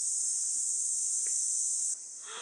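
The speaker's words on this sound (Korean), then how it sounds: "알았어, 매미들아, 좀만 조용히 해줄래?" Cicadas in the trees of Jeju drone in a loud, steady, high-pitched chorus that holds constant, then drops to a slightly softer level near the end.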